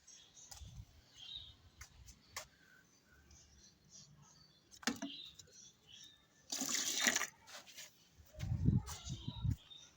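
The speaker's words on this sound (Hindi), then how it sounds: "पहले मैं इनको यार पानी देता हूँ।" Garden plants, including a drooping raat ki rani, are watered by hand: intermittent splashing and a burst of pouring water, with scattered handling noises and soft knocks around it.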